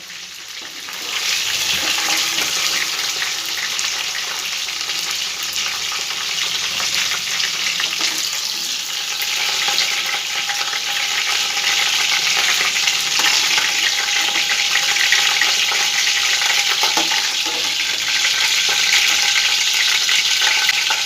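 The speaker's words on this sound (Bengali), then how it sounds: "দেখো পেঁয়াজগুলো আমার ভাজা হয়ে গেছে।" Sliced onions fry in hot oil in a pan for an onion curry, with a continuous, bright, crackling sizzle that stays loud and even throughout.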